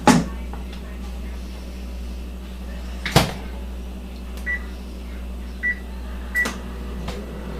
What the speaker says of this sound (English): I'm going to put it in the microwave for 30 seconds.